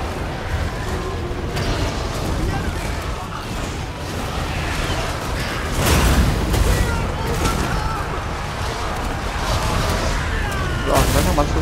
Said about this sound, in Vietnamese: Rồi nó đang bắn súng vào rồi.